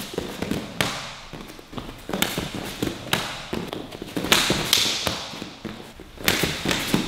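Round kicks in a martial arts demonstration land as a series of sharp, close slaps and thuds at irregular intervals, about eight distinct impacts with no talk over them.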